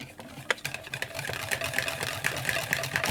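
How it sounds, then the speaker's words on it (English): Crêpe batter is whisked with milk in a bowl for savoury herb crêpes, giving quick, close rhythmic clicks and sloshing strokes of the whisk with a faint voice in the background. "And I'll whisk it"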